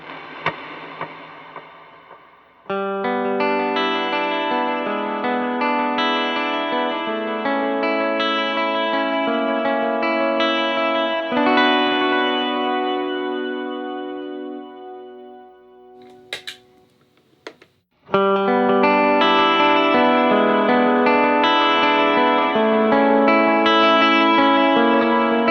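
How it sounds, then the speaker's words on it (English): An electric guitar played through a worship-style pedalboard with reverb and delay rings out in sustained, shimmering chords, loud and continuous, with a brief pause and one sharp transient before the chords return. "So let's check it out now with some reverb and delay."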